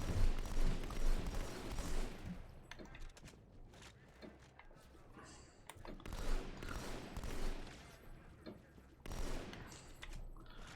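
Repeated battle rifle bursts in Halo 2, rapid clustered shots recurring in waves over several seconds, fairly close and steady, with no voices over them.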